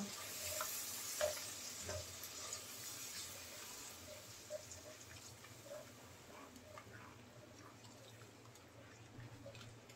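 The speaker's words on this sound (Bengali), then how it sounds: "মশলাটাকে কষিয়ে নেব।" Ground spices with turmeric, cumin, garam masala and salt sautéing in a pan give a quiet sizzle with soft stirring scrapes and small wet pops, faint and close, briefly stronger near the start.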